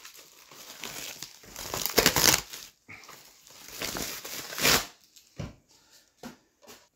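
Paper packaging rustles and crumples as a 27-inch Gigabyte M27Q monitor is unboxed, close, irregular bursts of crinkling and tearing with short gaps, and no talk.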